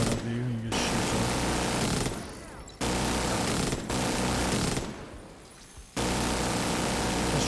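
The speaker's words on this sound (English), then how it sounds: "This one's a little bit easier because they'll spawn right in front of you and you just shoot them." Rapid automatic gunfire from a gun that overheats in The Division 2, shooting enemies in sustained loud bursts broken by short pauses, with game sounds continuing between volleys.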